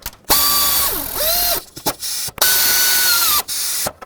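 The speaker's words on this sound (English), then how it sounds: "then I'll tighten up the 2 top bracket bolts" A power tool with a ratcheting whine runs the top alternator bracket bolts tight on a 1997-2003 Ford F-150, two loud close bursts with the pitch sagging as the bolt seats, separated by brief clicks.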